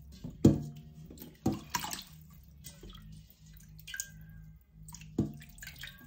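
Water splashing and dripping as groceries are rinsed by hand, with several sharp splash bursts over a low steady running-water background; no one speaks.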